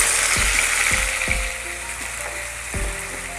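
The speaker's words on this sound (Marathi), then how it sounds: "छान तेलामध्ये असं परतवून घ्यायचं" A ground paste of roasted whole spices, coconut, onion, ginger and garlic sizzles in oil over low heat for bangda fish curry, with a steady hiss and a few sharp scraping clacks of a spatula against the pan.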